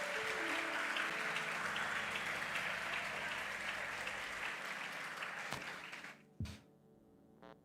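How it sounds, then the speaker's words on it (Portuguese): A church congregation applauds during a sermon, broad sustained clapping that fills the room for several seconds before tapering off, with a sharp knock near the end as it fades. "Você pode aplaudir a presença dele nesse lugar."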